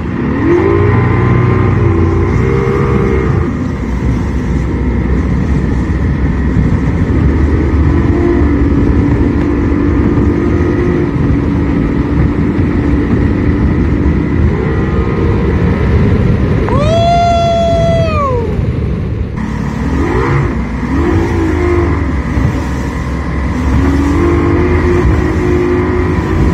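Old Mercury V6 200 hp outboard boat engine running on the water, a loud continuous drone with shifts in pitch and a brief rising and falling whine partway through.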